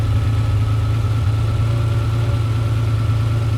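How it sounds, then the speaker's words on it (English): A Ferrari 512BBi engine idles steadily with a deep, even hum and slight mechanical rattle, close and continuous with no speech. "You can still hear the engine note change slightly."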